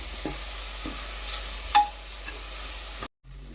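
A few soft, spaced-out scrapes of a spoon against a pressure cooker pot as cooked lentils are stirred in, over a low background hiss, followed by a brief moment of silence near the end.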